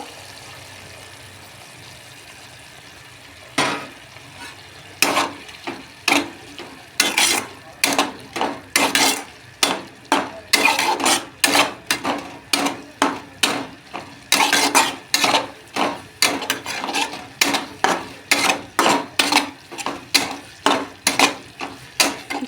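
Utensil stirring a rice flour mixture soaked in milk in a cooking pan with potatoes and drumstick greens, a steady run of sharp scraping clicks repeating close by, loud and alone.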